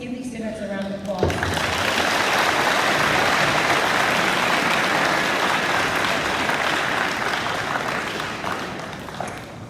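A school awards-day crowd bursts into loud, sustained applause for students after a short spoken announcement, the clapping holding steady and full before easing slightly at the end.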